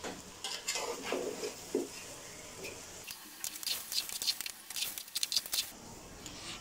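Chicken pieces going into a pot of frying rice and lentils for bhuna khichuri, with sizzling and scraping stirring, rattling clinks of the utensil, fairly quiet and close.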